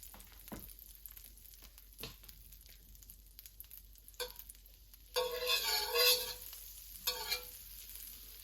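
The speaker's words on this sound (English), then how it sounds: "we're going to add 2 tablespoons of all-purpose flour to that. Make a basic roux" A flour roux for white sauce cooks in a pan, giving soft scattered clicks of stirring and then a louder sizzling burst for a couple of seconds, a shorter sizzle following, with no talking.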